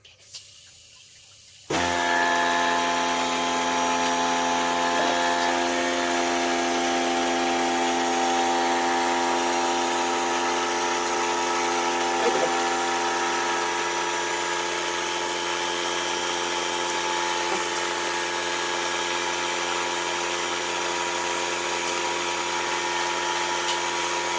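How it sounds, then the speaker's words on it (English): An air compressor filling a well pressure tank starts with a sudden roar and keeps running steadily, a loud continuous motor hum with a high whine over it. "I got my air compressor down here and hooked up now and filled up."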